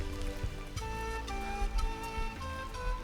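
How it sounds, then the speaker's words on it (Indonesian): Rain falls in the mountain forest of Mount Sibayak in the Karo highlands of North Sumatra, a steady soft patter with scattered drips, heard alone under a faint tonal hum. "Wah, hujan rupanya Nas."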